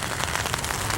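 Steady rain patters densely on a tarp, a close, even hiss of drops with no voices.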